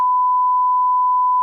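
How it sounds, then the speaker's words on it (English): The default steady sine tone from the Logic Pro test oscillator plays as a pure, unwavering beep at a single pitch, starting and stopping abruptly, alone and clean. "It's gonna be sine wave. That's the automatic sine wave."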